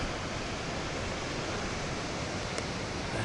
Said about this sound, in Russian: А тут еще один водопад.